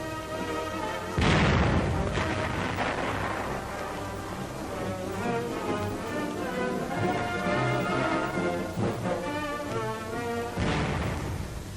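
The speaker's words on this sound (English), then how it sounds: "The gun commander demonstrates manual firing." The gun of a GMC M10 tank destroyer fires manually in two heavy, booming blasts about nine seconds apart, each sharp and loud over a steady, continuous background.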